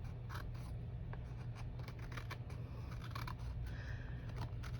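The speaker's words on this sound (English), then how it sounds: "Sometimes when I trim with the big scissors, I don't get close enough." Big scissors trim paper for a mini fairy journal in a series of soft, close snips and scrapes, faint against a steady low hum.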